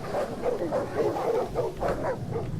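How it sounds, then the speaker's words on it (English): War dogs barking during a Total War: Attila battle, a rapid run of overlapping barks and yips at moderate volume over a low battle rumble. "So these cool Ethiopian-looking dogs getting released here"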